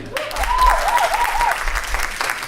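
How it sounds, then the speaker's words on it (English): An audience applauds a performer at a jazz performance, steady close clapping with a sung or whistled melodic line rising above it throughout. "I want y'all to really clap because her birthday is actually in May also. So give it up for May."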